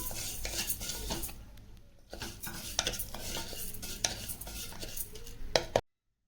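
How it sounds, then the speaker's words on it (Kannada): A spoon scrapes and clinks steadily in a pan as food roasts in ghee for a festival offering, with repeated close stirring strokes and a faint sizzle underneath, ending abruptly in silence. "ತುಪ್ಪ ಹಾಕಿ ಚೆನ್ನಾಗಿ ಸ್ವಲ್ಪ ಹುರ್ಕೋಬೇಕು. ತಿರ್ಸ್ಕೊಳ್ಳಿ ಚೆನ್ನಾಗಿ."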